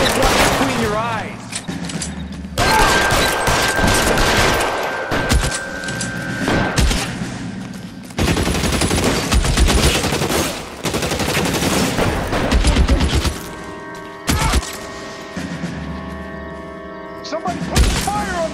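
Shootout gunfire in the video game L.A. Noire, with loud rapid bursts and single shots crackling almost without a break, alongside mechanical clatter and short shouted voices.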